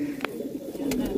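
Pigeons coo in a low, continuous murmur close by, with a couple of brief sharp noises over it.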